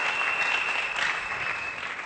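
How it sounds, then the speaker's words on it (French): An audience claps together in a dense, sustained burst of applause that holds steady, then thins slightly toward the end, with a faint tone running underneath. "Acclamons très fort pour le"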